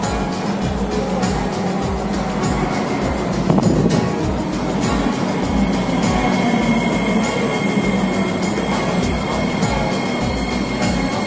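A Singapore MRT metro train runs steadily with a rumbling, rhythmic clatter of wheels on track and a faint high squeal, continuous and fairly loud throughout.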